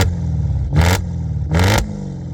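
Audi RS6 C7 V8 tuned to 730 hp, blipped twice in sharp bursts that rise and fall over a steady, rumbling idle, loud and close with no voices.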